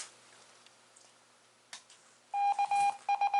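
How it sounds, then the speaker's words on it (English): Quiet static and a couple of faint clicks, then a loud radio tone sounds in several short bursts broken by brief gaps, a test signal from a Yaesu FTM-10SR 2-meter mobile radio heard through a handheld transceiver. "I'm just going to demonstrate my test signal transmitting out of my 2-meter mobile"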